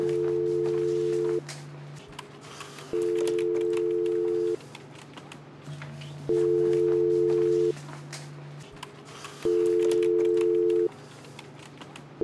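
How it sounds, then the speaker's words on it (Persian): A telephone rings in repeated bursts, each tone lasting about a second and a half with short gaps, steady and fairly loud over a low background hum in a tense police-drama scene. "تلفنش داره زنگ میخوره"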